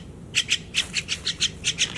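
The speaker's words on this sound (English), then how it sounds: "It's getting attacked by a bird at the moment." A bird calls repeatedly near a removed alternator from a Jeep Grand Cherokee WK2 diesel, sharp chirps in a quick, fairly regular series of about a dozen notes over a low background hum.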